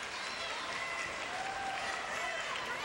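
Arena crowd at a women's college gymnastics championship applauds in a continuous, even roar of clapping and cheering, with a commentator talking over it.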